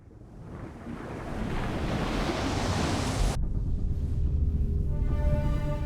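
Ocean surf on the primordial early Earth, a broad rushing wash that swells in loudness over the first seconds, then continues as a steady roar with a low rumbling undertone and no voices.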